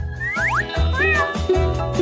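A cat meows from a TV show about cats, several rising and falling cries in quick succession over a loud, pulsing musical backing.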